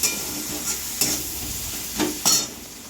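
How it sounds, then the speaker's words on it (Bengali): Whole Lotia fish frying in hot oil in a kadai, a steady close sizzle broken by a few louder spatters and clinks as the pieces are stirred and turned. "লটিয়া মাছগুলো গরম তেলে দিয়ে ভেজে রান্না করছে"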